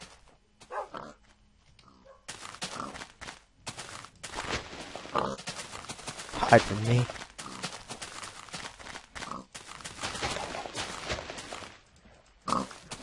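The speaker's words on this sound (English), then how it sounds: "let the pig go." Pig grunts and snorts from a Minecraft-style game on the Flexxcraft server, several short scattered calls amid intermittent game noises, with a person speaking briefly.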